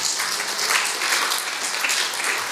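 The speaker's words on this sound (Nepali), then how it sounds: "ताली बजाएर परमेश्वरलाई धन्यवाद।" Congregation clapping in thanks to God at a revival church service, a thick, even wash of many hands applauding together, loud and sustained throughout.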